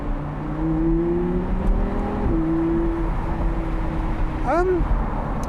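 Audi R8 V10 Spyder, a 2013 car with over 500 brake horsepower, accelerating hard, its engine note climbing in steady rising tones through gear changes, loud and close from inside the cabin, with a brief high rising whine near the end.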